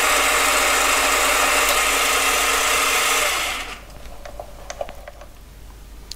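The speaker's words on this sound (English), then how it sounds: "Got it set back to where it did the previous cut, and we'll try a second pass." A mini lathe makes a light second skim cut as a steady, loud motor whine with a high hiss for about three and a half seconds, then winds down into quiet clicks and faint handling sounds.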